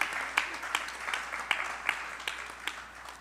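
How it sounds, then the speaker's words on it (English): Applause from a live audience at a Pitri Paksh religious gathering: a few scattered claps, moderately close, over a soft room wash, with distinct sharp hand strikes recurring through a brief, fairly quiet burst. "give them a round of applause."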